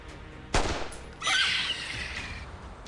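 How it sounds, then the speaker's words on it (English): A single close, loud gunshot cracks out in the Reverse 1999 video game, followed a moment later by a bright metallic ringing tail over low background ambience. "A gunshot hammers out nearby, the shot landing on one of the snarling Kikatuk."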